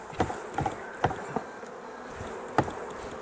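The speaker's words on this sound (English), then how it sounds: "I'm just going to shake some of these bees off actually" Honey bees being shaken off a hive frame during a spring hive inspection, a soft close buzz with a few brief louder passes and light knocks.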